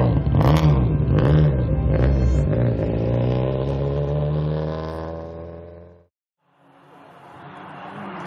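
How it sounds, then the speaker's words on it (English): Rally cars pull away from service, loud revving engines climbing through the gears close by, fading briefly to near silence before another car approaches and accelerates. "Service complete, the cars head out."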